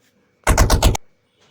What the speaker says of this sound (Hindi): एक कानफोड़ धमाका हुआ